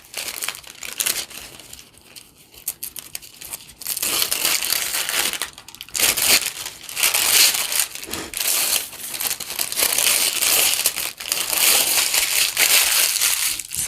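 Paper backing from ironed-on Pellon 805 is peeled away and crumpled by hand, giving close, loud, sustained crinkling and crushing with a quieter start, then dense rustling bursts, with no talk.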